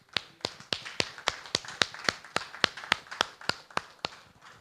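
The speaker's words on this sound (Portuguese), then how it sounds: "Quem pode aplaudir ao Senhor comigo?" Church congregation applauding in a steady rhythm, sharp evenly spaced claps about three per second, fairly close and distinct, with no talking.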